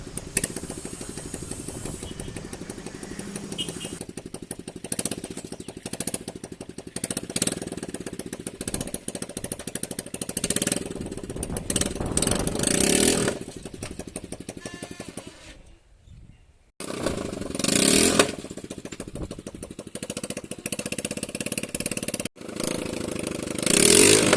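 A Swaraj tractor engine cranks and catches, then idles in a loud, rapid diesel chugging. It cuts out briefly and restarts, staying close and dominant with no talking.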